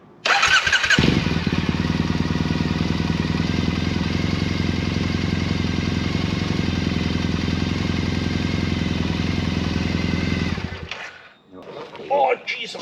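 A Triumph Bonneville motorcycle with a suspected wiring fault cranks and fires up, then runs loud and close in a steady throbbing idle for about ten seconds before cutting off, with brief faint handling noises after.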